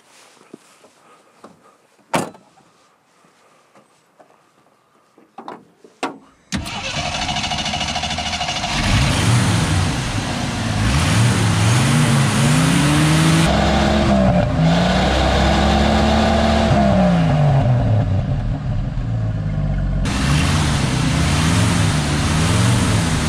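A large 4.2-litre engine in an American car starts up after a few faint clicks and knocks, then runs loud and close, idling and revving up and down in several rising and falling sweeps.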